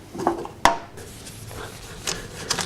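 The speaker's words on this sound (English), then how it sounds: "Open up my denatured alcohol." A bottle of denatured alcohol being opened up close: one sharp click of the cap with light rubbing and handling noise around it, no speech.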